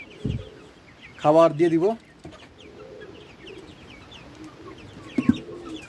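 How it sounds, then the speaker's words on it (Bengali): Local desi hens and chicks gather to eat, with a loud rooster-like call in the middle and softer clucks and chirps around it, while a person talks briefly. "আর আমাদের দেশি মুরগিগুলা, এই যে দেশি মুরগির বাচ্চাগুলা"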